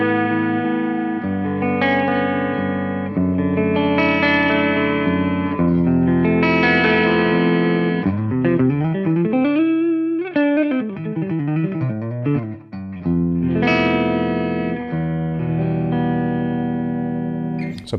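Clean electric guitar with the neck humbucker pickup on a Washburn Parallaxe plays a melodic passage of chords and single notes, warm and sustained with gentle vibrato, no voices.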